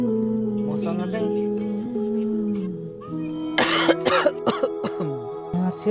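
A person coughing and clearing the throat while ill with fever, a few sharp harsh bursts in quick succession after a stretch of droning background tone, close to the microphone.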